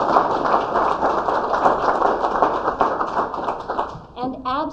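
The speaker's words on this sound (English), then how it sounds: "And keep on applauding for the parents and the grandparents" Audience at an arts competition ceremony clapping steadily, a dense patter of applause that runs for several seconds before a voice begins speaking over its tail.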